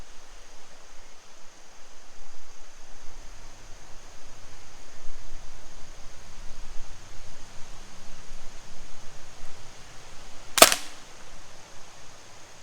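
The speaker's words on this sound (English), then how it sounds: "And the first shot's away." A single sharp rifle shot rings out at a shooting range, a loud isolated crack standing out against steady faint background hiss.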